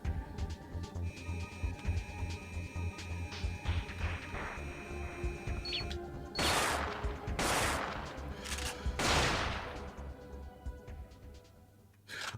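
Automated turrets open fire on enemies in the PS1 game Parasite Eve 2, loud rapid bursts of gunfire in several separate volleys over a humming game background, then fading to quiet.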